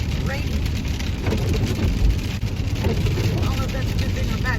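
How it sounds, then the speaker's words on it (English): Freezing rain patters steadily on a car while driving home, a dense continuous hiss mixed with low engine rumble inside the cabin, with a person talking over it. "You can probably hear in the background the rain starting to get a little more rainy."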